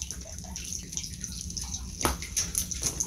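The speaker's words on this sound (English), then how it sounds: "Put the cold sap on the top, through the strainer, take any bugs or anything out of it." Cold maple sap poured through a regular honey strainer, a soft continuous trickle and drip of liquid, close by, with a brief louder splash in the middle and no speech.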